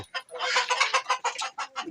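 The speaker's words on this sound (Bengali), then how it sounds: "এইদিকে অনেক মুরগি রয়েছে আরও" Native chickens in Saudi Arabia give a quick run of close, loud clucks in an uneven rhythm, about a dozen short calls packed together with no talking.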